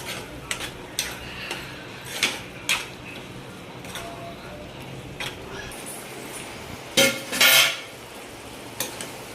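A pot of ridge gourd and fenugreek curry comes off the stove amid scattered metallic clinks and scrapes of utensils against cookware, mostly sparse taps with a louder clatter near the end.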